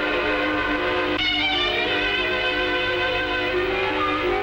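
A running train sounds a sustained, tonal whistle over a steady rail rumble, continuous and fairly loud throughout with no voices.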